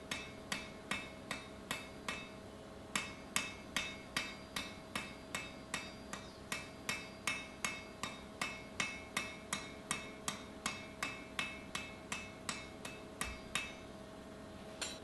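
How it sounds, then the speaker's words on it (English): Steady, evenly spaced hammer blows ring out on hot iron while an Anglo-Saxon stirrup is forged and dressed after welding, about thirty sharp metallic strikes in a regular rhythm, close and clear with a faint hum beneath. "So just after welding, forging to section and dressing it a bit."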